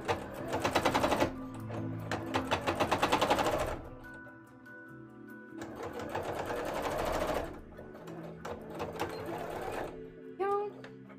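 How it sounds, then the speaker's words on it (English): Home sewing machine stitching a League of Legends Neeko cosplay, with fast rhythmic needle clatter in several bursts separated by pauses, close and loud, and someone talking briefly in between. "I seem to be sewing alright other than that"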